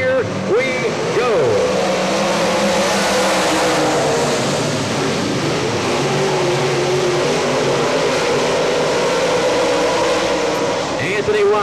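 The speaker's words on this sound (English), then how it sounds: "The caution light is out, and that means one thing, race fans. We're going racing" Dirt track race cars at a Tennessee Thunder dirt car series dash, engines roaring and revving as the pack comes around into turn four, loud and continuous under an announcer's commentary.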